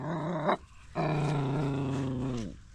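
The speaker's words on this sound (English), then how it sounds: "Stop it, Bruno. You don't like people?" A dog growls close by in two sustained, rumbling bursts, a short one and then a longer, steady one separated by a brief pause, with no talk over it.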